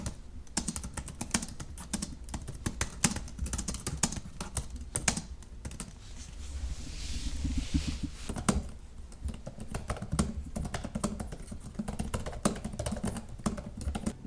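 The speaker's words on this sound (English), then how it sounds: "When they first revealed it, they called it hush keys, and they sound like this." Typing on a Google Pixelbook Go laptop keyboard with quiet hush keys, a steady run of soft muffled key taps with small thumps, close and alone, with a brief pause in the middle.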